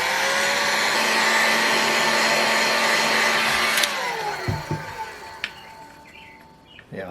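Hot air tool heating a model engine case for bearing installation, a loud steady whirring blow that cuts off midway, followed by small clicks and handling noises.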